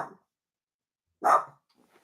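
Queenie, a pet dog, gives two short barks indoors, a brief one at the very start and a louder, fuller one a little over a second later, with silence between.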